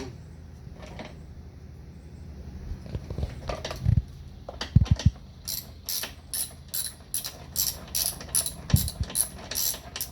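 A wheel coming off a self-propelled lawn mower that won't roll freely with the engine off: close metallic clicks, scrapes and a run of rapid ratcheting taps, fairly faint, with no talk.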